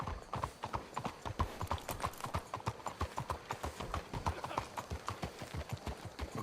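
Horse hooves clip-clopping steadily in the Red Dead Redemption 2 video game, a brisk rhythmic series of distinct hoofbeats at a walking-to-trotting pace, close and clear with faint ambience behind.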